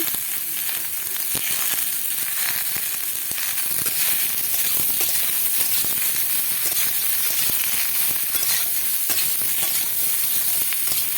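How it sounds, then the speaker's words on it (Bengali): Slit green chillies fry in a pan for a Bengali ridge gourd and bori dish, giving a steady loud sizzle with scattered crackles and the occasional scrape of stirring, and no voices. "দিয়ে দেবো কিছুটা কাঁচা লঙ্কা চিড়ে রাখা"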